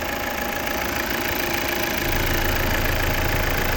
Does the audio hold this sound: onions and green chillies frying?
no